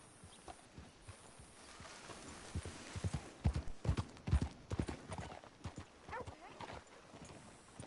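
Horse hooves clip-clop at a walking pace in the video game Red Dead Redemption II, a close, moderately loud run of uneven hoofbeats that grows busier midway through.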